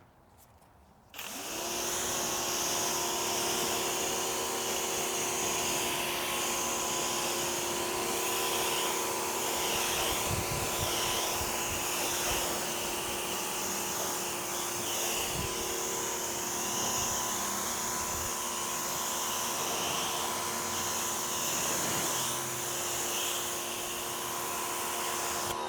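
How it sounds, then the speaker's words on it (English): A car gets rinsed during a maintenance wash, a pressure washer starting up after a moment and then running loud and steady with a constant motor whine and hiss of spraying water, close and continuous without talk. "So we're gonna go ahead and rinse it off."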